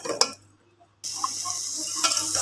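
Coriander, cumin and turmeric dry-roasting in a pan, a brief stir and clink, a second of near silence, then a steady close sizzle with light scraping taps.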